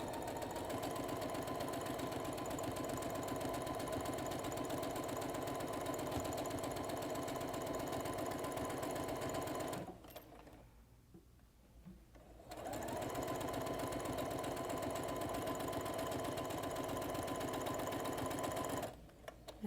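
A sewing machine stitches a headband seam in a long steady whir, stops for about two seconds, then runs again at an even pace before a brief final pause and restart.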